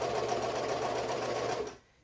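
A sewing machine stitches quilt seams in a close, steady mechanical whir with a fast regular rhythm, stopping abruptly near the end.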